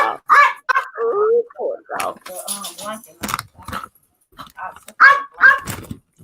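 Dogs barking near a domestic violence panel discussion, the barks mixed in among people talking.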